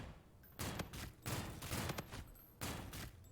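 Rapid bursts of SMG fire in a zombies-mode shooter game, several loud close volleys spaced a beat apart with short pauses, no talking.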